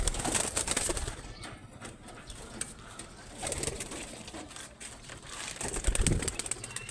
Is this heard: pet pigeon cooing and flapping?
yes